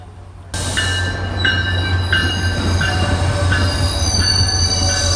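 Moving train on rails with high-pitched wheel squeal repeating at a steady rhythm over a constant low rumble, loud and close, heard from inside the rail car.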